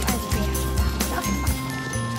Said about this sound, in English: we're at the duck pond